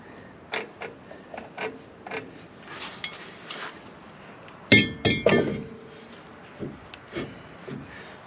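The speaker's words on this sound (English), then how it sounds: "I need to tighten the star up a little bit by pushing the shoes out." Metallic clicks and clinks from adjusting the star adjuster on the rear drum brakes of an older Ford F250 or F350 truck, a series of sharp close taps with a louder clattering burst midway, no talk.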